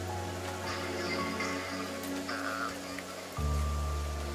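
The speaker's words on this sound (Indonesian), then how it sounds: "Ayo geus hujan." Rain falls outdoors by a hillside garden, a soft steady hiss with a low humming drone underneath that grows louder near the end.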